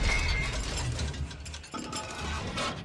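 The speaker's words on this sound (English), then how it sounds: "And it takes a few seconds for it to reload again." Tank main gun reloading in Tank Crew, a clanking, ratcheting mechanical sequence of metallic clicks and gear movement lasting a few seconds, moderately quiet with no talk.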